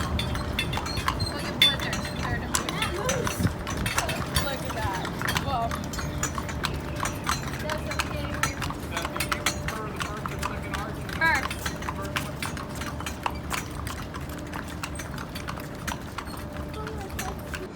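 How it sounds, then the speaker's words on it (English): Steady clip-clop of horse hooves pulling a carriage on a training exercise, a continuous rhythmic trot close by, with people talking in the background. "This is a training exercise for the horse and carriage."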